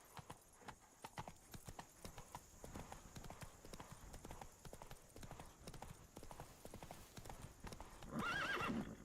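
Roach the horse galloping in The Witcher 3, a fast rhythmic clip-clop of hooves at close range, ending in a loud, wavering neigh.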